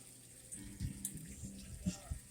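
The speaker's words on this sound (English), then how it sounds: "So now it's pumping up the water" An LG 4.7 washer on its bulky cycle pumps water with a steady, quiet rushing flow, broken by a few soft thumps and knocks from the drum.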